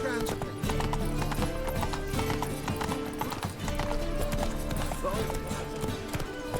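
Roach, a horse in the video game Witcher 3, clip-clops along with steady hoofbeats throughout, set under dense, loud music and game voices.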